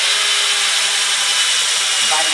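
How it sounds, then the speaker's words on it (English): A Black & Decker Matrix cordless drill runs continuously and loudly up close, a steady high whirring grind throughout. "by now I expected this drill to be out of power."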